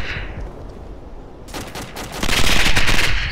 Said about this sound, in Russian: Стрельба.